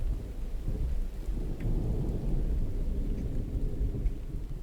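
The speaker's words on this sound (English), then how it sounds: "I'm waiting for the rain to be over with so it clears up" Steady rain with rolling thunder from a video game storm, a dense continuous wash of low rumble and patter that holds at an even, fairly loud level throughout, with no voices over it.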